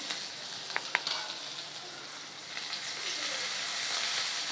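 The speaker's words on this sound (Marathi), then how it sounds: "जे बारीक ठेचलेला लसूण आणि अद्रक आहे ती आपल्याला व्यवस्थित तळून घ्यायची आहे" Crushed garlic, ginger and curry leaves frying in hot oil for a drumstick vegetable curry: a soft, continuous sizzle with a couple of sharp utensil taps early on, growing slightly louder and steadier, no talking.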